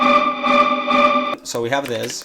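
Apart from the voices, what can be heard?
synthesizer melody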